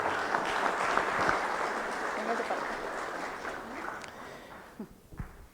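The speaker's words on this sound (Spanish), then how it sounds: "Aplausos a la distinguida expositora" Sustained audience applause at a public policy event, a dense steady patter of clapping that thins and fades toward the end, with a few scattered final claps standing out.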